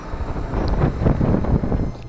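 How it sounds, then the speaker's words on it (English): Strong high-desert wind roaring across the microphone, a continuous loud low rumble with gusty swells throughout. "it's so windy out here"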